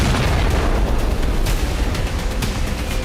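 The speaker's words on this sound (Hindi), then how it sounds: "इजरायल के बदले वाले एक्शन की वजह से अल हुदैदा बंदरगाह में कई धमाके हुए।" Explosions at Al Hudaydah port in Yemen, heard as a continuous, loud, rumbling roar of blasts with dense low booms and scattered sharp bursts, with no voices.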